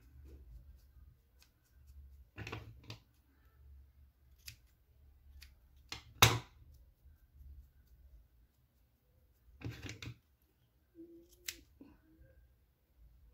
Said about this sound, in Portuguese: eu vou cortando pra ficar bem redondinho esse rabinho desse desse coelhinho